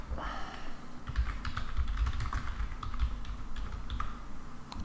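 Typing on a computer keyboard while entering a company name for a WordPress page title, a close, quick run of irregular clicking keystrokes with no talk.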